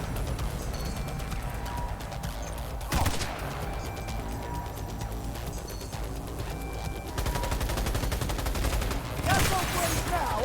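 Gunfire in the video game Cyberpunk 2077: bursts of shots in a dense, continuous game mix, with sharp loud cracks near 3 and 9.5 seconds over steady background noise.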